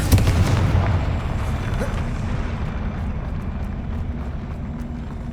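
A deep booming explosion from the Confringo fire spell in the Hogwarts Legacy video game, a heavy blast at the start that rumbles and slowly fades out.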